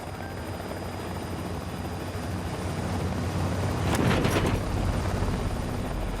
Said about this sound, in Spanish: a medida que el helicóptero volaba sobre las montañas